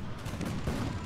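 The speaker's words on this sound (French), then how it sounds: "Il y a quelque chose qui me tire dessus." Enemy gunfire in the video game Spore, a dense burst of muffled shots and booms crowding together over about a second, moderately loud with no talking over it.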